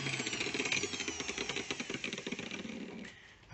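An angle grinder cuts a slot into a screw head on an Itatiaia four-burner cooktop stove, a close, gritty whine broken into rapid chattering pulses that fade toward the end.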